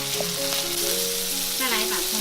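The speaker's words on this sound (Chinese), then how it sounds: "重新起锅，加入少许油，把肉末放进来炒香" Minced pork and dried scallops stir-fry in a little oil in a wok, giving a loud, continuous close sizzle with light scraping from stirring throughout, while background music plays.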